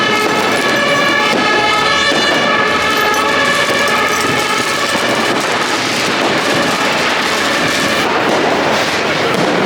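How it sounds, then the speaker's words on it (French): New Year's fireworks go off in the Berlin streets, a dense, continuous barrage of bangs and crackles with a steady high whine layered over the top. The sound is loud and constant throughout. "Tu essaies de marcher, ça explose de partout."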